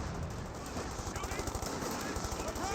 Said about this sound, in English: He does have this MG42 firing away.